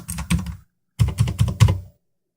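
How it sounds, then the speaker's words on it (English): Keys on a TeamWolf X20W budget wireless mechanical gaming keyboard are pressed in two quick bursts of about three and four clacky strokes, close and crisp with a brief pause between. "So this is actually the lights turn on when you only press the keys,"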